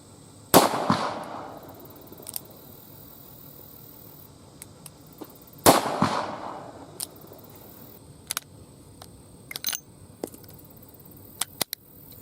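Two sharp, loud gunshots from a Ruger GP100 .357 Magnum revolver firing Buffalo Bore 180-grain rounds, about five seconds apart, each with a brief ringing tail, followed by faint clicks and small handling noises.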